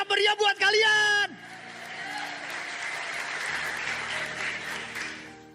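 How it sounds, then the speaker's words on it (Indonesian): After a brief burst of loud music, a crowd of churchgoers breaks into applause and cheering, a steady dense wash of clapping and whoops that continues to the end. "Jadi tepuk tangan dulu yang meriah buat kalian."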